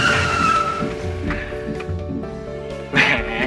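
A car brakes hard, with short bursts of tire squeal and skidding over a low engine rumble, ending in a sharper squeal.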